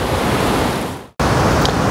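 Strong night wind roaring steadily against the microphone outdoors by a tent, loud and close, broken by a brief drop to near silence before it gusts back.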